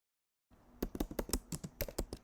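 Fingers type quickly on a computer keyboard, producing a close, rapid run of crisp key clicks after a brief silent start.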